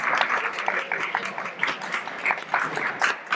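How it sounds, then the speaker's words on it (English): An audience gives a round of applause for an outgoing society secretary and treasurer at a medical society event, dense continuous clapping throughout at steady volume. "We have a round of applause."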